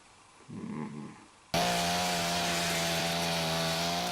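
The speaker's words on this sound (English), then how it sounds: "Oh, I love a chainsaw." After a brief quiet murmur, a chainsaw in the horror film A Christmas Horror Story abruptly roars to life, holding a loud, steady buzzing drone with a strong engine whine that continues unbroken.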